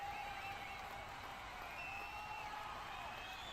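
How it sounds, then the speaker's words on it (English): Stadium crowd noise at an Arsenal home Champions League match against Sporting CP, fans roaring and chanting ahead of a corner. A steady, dense wall of sound holds evenly throughout, with sustained tonal chanting over the general din. "the crowd giving it everything here to create as much noise as possible"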